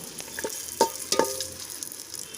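Cashews and raisins fry in hot ghee with a soft, steady sizzle, broken by a couple of brief crackles and stirring scrapes, close and fairly quiet, with no talking.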